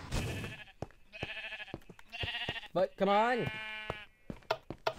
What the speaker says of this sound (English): All the sheep were alive!